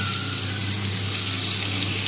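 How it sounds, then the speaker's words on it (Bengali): Chopped onion frying in a pan with cinnamon and cloves, giving a steady, continuous sizzle with a low hum underneath throughout, no voices. "পেঁয়াজ কুচিটা প্রথমে ভেজে নেব।"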